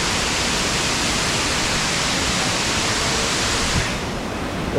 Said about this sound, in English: Oh, such cool waterfall.